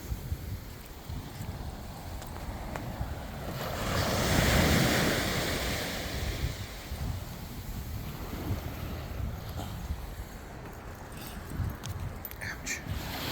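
Ocean surf rolls onto a beach at night, a broad wash that swells to a louder crest midway, with wind buffeting the microphone and a few faint clicks near the end.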